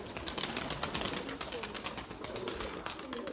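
Pigeons cooing at a Turkish pigeon-flying session, soft low coos amid a busy outdoor backdrop with fluttering and nearby voices.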